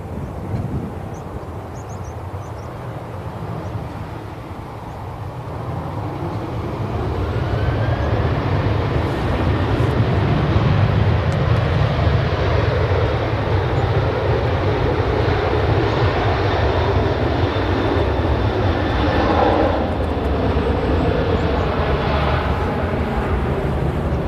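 A jet taking off on a positioning flight from an early intersection at Manchester Airport, its broad engine roar swelling after a few seconds and holding loud and steady, with a faint rising whine over the rumble and no voices.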